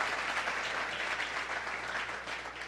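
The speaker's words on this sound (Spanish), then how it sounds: "denle un aplauso al Señor por eso" Sustained applause from a church congregation during a Spanish-language sermon, a dense, steady wash of many hands clapping that fills the whole stretch at even loudness without voices on top.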